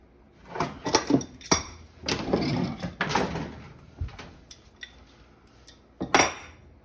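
Metal gas line fittings are connected to a gas range: a series of sharp metallic clinks, rattles and scrapes in irregular bursts, close by, with quiet gaps between.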